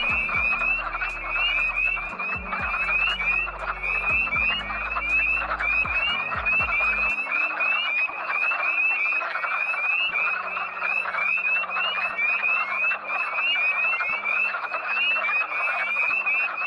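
A dense chorus of wood frogs calling continuously during breeding season, many overlapping clucking croaks forming a steady rattling din, with occasional low thumps early on.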